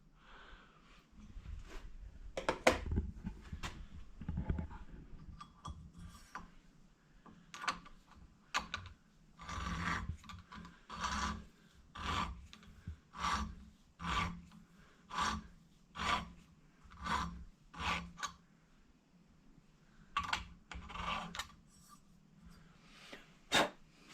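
A hand valve seat cutter scraping seats on a 1979 Honda Goldwing cylinder head, a series of short regular rasping strokes in steady rhythm, close and clear with brief gaps between them.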